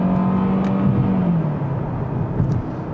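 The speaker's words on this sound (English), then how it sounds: "Five-cylinder engines never were particularly popular, and the turbo on this one is quite laggy." An Audi RS Q3 five-cylinder turbo engine revs loudly and steadily, its low droning note dipping and rising briefly, with no talking over it.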